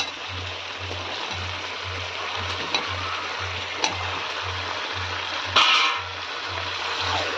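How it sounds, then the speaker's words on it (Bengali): Chicken and potato pieces stir-fried together in a pan, a steady soft sizzle and bubbling with a few sharp scrapes and clinks of the spatula, under a faint rhythmic low hum. "মাংস সুন্দরভাবে কষানো হবে এবং তার সঙ্গে আলুও সুন্দরভাবে কষে যাবে।"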